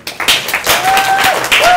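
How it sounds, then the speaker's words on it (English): Conference audience claps loudly for the event volunteers, a dense burst of applause from a large crowd filling the short moment with a few whistles mixed in. "Could we get a round of applause for all the pink shirt people?"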